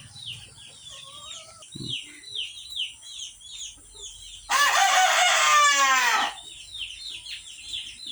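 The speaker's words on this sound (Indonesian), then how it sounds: "ada di sini ada ayam" Laying-hen chickens in a coop cluck and chirp steadily nearby, and a rooster lets out one loud, drawn-out crow partway through.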